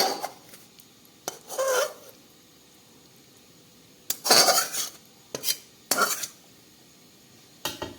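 A metal lid comes off a cooking pot of egg do-pyaza in a home kitchen, making several separate clanks and scraping rattles with quiet gaps between them.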